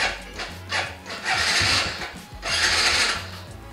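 An old Suzuki Smash 110 motorcycle engine starts and runs close by, its idle rising into two rough, raspy throttle surges.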